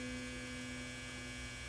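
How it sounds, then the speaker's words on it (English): A clothes dryer gives off a steady, continuous electrical buzz with a constant low hum, faint and unbroken throughout, with no voices. "That's the dryer. That's not the winning buzzer. That was the dryer."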